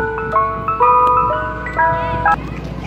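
A Mister Softee ice cream truck plays its bright chiming jingle loud and close, the tinkling melody running in short repeated phrases.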